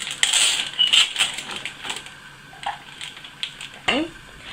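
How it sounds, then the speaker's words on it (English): A knife cutting open raw chicken for fajitas, with scraping, clinking and a few sharp clicks against a board or bowl, close up, in scattered bursts with a brief pause between. "It's easier to get a knife so that you can cut the chicken open."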